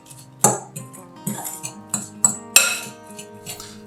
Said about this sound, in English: pour it over the crushed Ritz crackers, then add the remaining Parmesan cheese and shredded pepper jack, and stir until everything is well combined